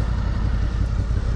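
A V4 motorcycle engine with a sport exhaust rumbles nearby in a steady, loud, low-pitched drone that holds throughout without voices.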